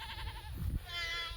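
Goats bleating close by in a goat pen, wavering nasal cries that overlap and run together for the whole brief moment, with no talking.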